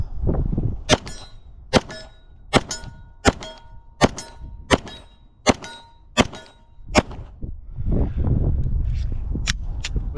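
Nine sharp gunshots from a Glock 17 Gen 4 pistol with an RMR-cut slide firing 124-grain rounds, loud and close, fired at an even pace with ringing metallic impacts after each.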